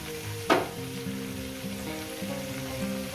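Bitter gourd and pumpkin fry in a pan with salt and turmeric, a soft continuous sizzle with a sharp crackling burst near the start.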